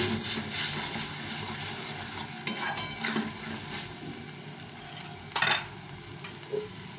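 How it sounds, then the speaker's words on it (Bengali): Spice paste for street-style ghugni fries in a pan with a soft continuous sizzle, punctuated by occasional scrapes and clinks of a spatula against the metal. "ভালো করে কষিয়ে নিতে হবে। মশলাটা কষা হয়ে গেছে ভালো করে।"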